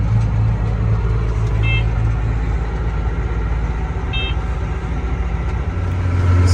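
A John Deere 9200 tractor drives back toward a field, its engine giving a steady, loud rumble throughout with a couple of brief high tones.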